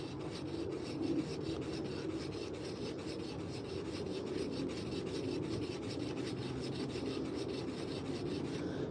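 Steady, close rasping of sandpaper on a hand-carved wooden spoon, a fast continuous back-and-forth rub that stays even throughout, alone without talk.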